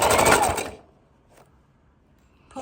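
A sewing machine stitches a quilted bag strap in a short, close whirring burst that quickly stops, leaving near silence before it briefly starts again at the end.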